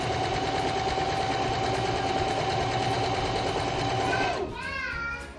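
A sewing machine runs a steady, continuous whirring stitch on a sundress, humming close and even before winding down near the end as a voice speaks over it.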